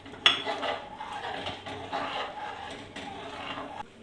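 Rice payesh being stirred in a pot with bay leaves and cardamom, a spoon scraping and clinking against the metal in repeated strokes, close and moderately loud.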